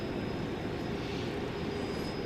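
An American Airlines jet on a runway at DFW airport, its engines producing a steady, faint broadband roar with a thin whine, unbroken and without talk.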